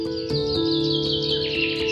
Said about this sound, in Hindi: चिड़ियों को चहकना ये बता रहा था कि सूरज निकल चुका था।